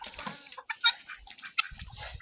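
Chickens cluck and squawk in quick, scattered bursts, fairly close, with a rooster-like call among them.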